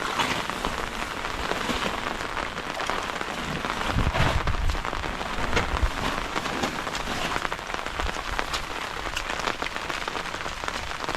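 Steady rain falling and pattering on a surface in a forest, a dense continuous hiss with a few heavier gusts of drops, fairly close and with no talking.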